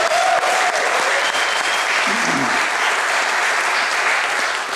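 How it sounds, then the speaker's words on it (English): A concert audience claps steadily for a bluegrass band, the dense applause holding at an even, fairly loud level for a few seconds, with a faint voice briefly under it. "another round of applause for this fine band right here"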